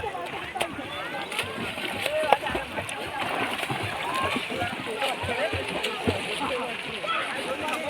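People play in the water, splashing and sloshing continuously at close range while voices chatter and shout over the choppy watery noise.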